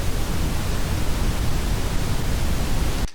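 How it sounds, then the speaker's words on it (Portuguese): Pink noise generated in Audacity, a steady broadband hiss weighted toward the low end, loud and unbroken for about three seconds before cutting off abruptly. "Então as frequências mais graves são mais predominantes no ruído rosa."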